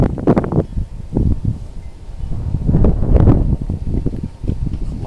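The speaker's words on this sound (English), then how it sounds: "Lots of wind." Strong wind blowing outdoors on a bright, chilly, dry day, loud buffeting gusts rumbling against the microphone throughout with no talking.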